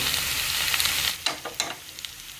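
Fish masala frying in a pan gives a steady close sizzle, then settles into softer crackles broken by a few sharp pops and stirring clicks, with no voices.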